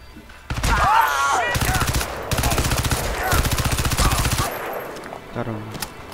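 Automatic weapons fire in the shooter game Crysis 2 in rapid, loud bursts of shots separated by short pauses, with a voice talking over and between them.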